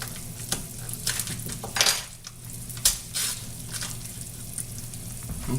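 Half a stick of butter melting in a hot pan while cooking schnitzel with lemon caper sauce: a soft continuous sizzle broken by sharp spoon and pan clinks and scraping stirs, close up.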